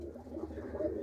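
Pigeons cooing softly nearby in a loft, a low, rounded, continuous burbling coo at moderate volume without voices.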